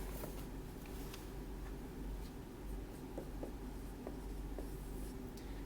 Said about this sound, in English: I'm going to have to write some stuff up on the board.